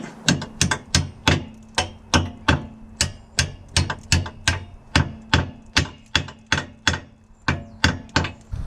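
A hammer strikes hard metal on a Ford Transit Mk 7 leaf spring again and again at a steady, brisk pace, each blow ringing sharply and close, over twenty hits with no talking.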